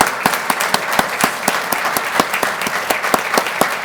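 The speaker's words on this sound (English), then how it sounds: "let's give them a round of applause" An audience at a Valor Awards dinner applauds past award recipients with steady, dense clapping that continues evenly throughout, loud and near.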